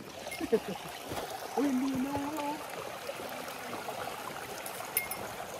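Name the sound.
flowing river water heard while hiking Mt. Daibosatsu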